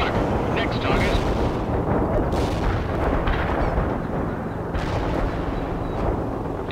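An artillery barrage in the real-time strategy game World in Conflict, a heavy, unbroken rumble of overlapping explosions and rapid gunfire, loud and sustained throughout, with faint radio voices underneath.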